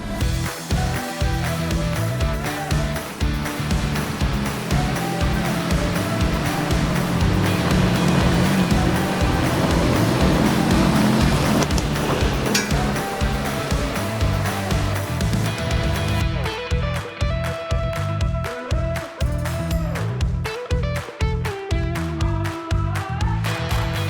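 A Toyota Tacoma fitted with a fridge slide drives down a bush road toward a waterfall trailhead, its engine and tyres producing a steady, loud rumble with repeated bumps and jolts and no talk.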